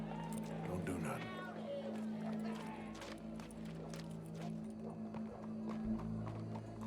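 Horse hooves clip-clop steadily in the Red Dead Redemption 2 video game, a moderate rhythmic clatter under constant background noise, with voices speaking over it.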